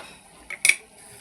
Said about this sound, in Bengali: আমি এবার ঢাকাটা খুলে দেখব।